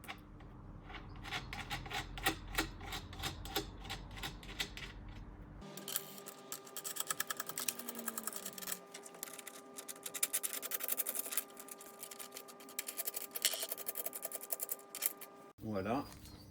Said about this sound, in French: j'ajoute un écrou et une rondelle sur chaque tige filetée